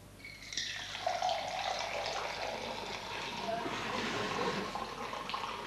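Cola streams into a glass as a steady splashing, bubbly pour that runs for several seconds at close range, with a studio audience murmuring faintly underneath.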